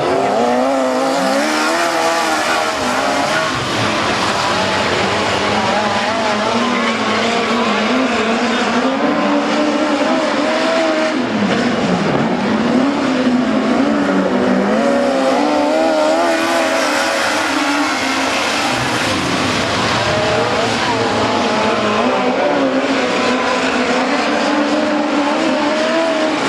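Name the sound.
midget race cars racing on a dirt track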